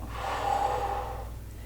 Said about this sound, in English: Breathing out. And in.